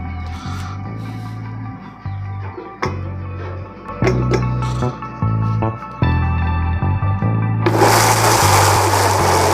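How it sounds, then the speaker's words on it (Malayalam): A mixer grinder blends papaya with sugar and chilled milk, running in loud whirring bursts that stop and restart several times, with a final harsher roar at the end. "ഇതിനെ നമുക്ക് മിക്സിയിൽ വെച്ച് അടിച്ചെടുക്കാം."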